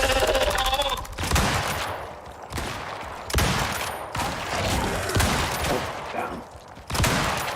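Gunfire in the survival game Icarus during a boss fight, sharp shots in bursts and single cracks spread across several seconds, loud and close, with a brief spoken exclamation.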